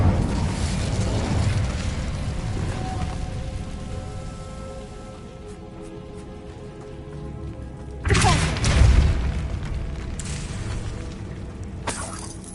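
Incendio fire spell cast in Hogwarts Legacy, a sudden booming burst with crackling spray that swells loudly, then settles into a low rumbling ambience before a second sharp blast near the end.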